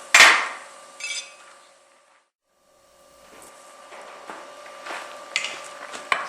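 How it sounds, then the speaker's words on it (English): Hot steel bar hammered on an anvil to forge a square corner: a sharp ringing strike, a second blow, a pause, then a run of lighter taps and knocks, close and clear. "I'm going to do that by hammering it back in and creating my future corner at the same time"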